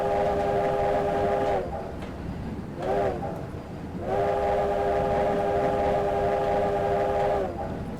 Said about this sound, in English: British route, Russian train, American horns